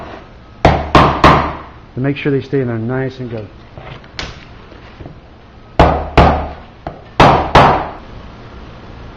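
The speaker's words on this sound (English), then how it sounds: "Sometimes I like to go back in with a hammer just to" A few sharp hammer blows in quick pairs and triplets on cosplay platform boots, close by, with a person talking between the strikes.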